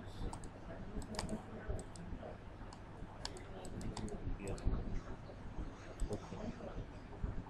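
Computer mouse clicks come while working in ANSYS Mechanical APDL software, with frequent light, close clicks scattered through a low room hum.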